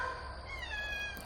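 A cat gives a single short, close meow with a rising-then-falling whine, heard alone with no talk.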